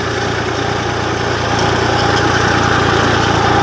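A tractor engine runs loud and steady in a cotton field, a continuous low drone with a slight vibrating buzz and no voices.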